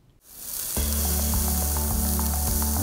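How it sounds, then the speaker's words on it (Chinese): Prime beef chuck with butter hits a hot griddle and breaks into a loud, steady sizzle that starts suddenly and continues, with light scraping taps throughout. "Prime 等级的牛板腱搭配奶油一起烧烤"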